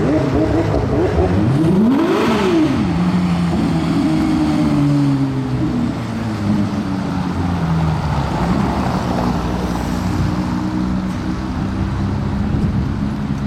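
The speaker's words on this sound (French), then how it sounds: "La LT et la GT3 RS qui ont croisé" Porsche GT3 RS and McLaren LT supercars passing along a Paris street by the Seine, loud engine roar with rising and falling revs as they go by, steady and close throughout.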